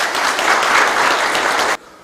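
A crowd of residents at a mayor's town-hall meeting in Baeksa-myeon claps loudly and steadily at close range, the applause cutting off abruptly before the end.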